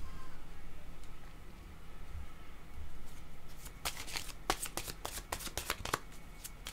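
Tarot cards are shuffled close up, a quick run of crisp riffling flutters and taps following a quiet stretch of faint room noise.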